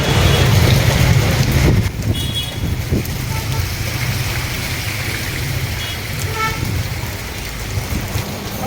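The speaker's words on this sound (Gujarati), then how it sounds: "કોડીનાર શહેરમાં અવિરતપણે વરસાદ ચાલુ હોય" Heavy, steady rain pours down on the town of Kodinar, a dense continuous hiss from start to finish, with faint voices and brief tones in the background.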